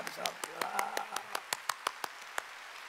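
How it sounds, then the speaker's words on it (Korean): During a Korean church Sunday worship service, the congregation claps in thanks: faint, spaced hand claps in a fairly regular rhythm, with a voice speaking briefly over the start. "감사의 박수 보내자"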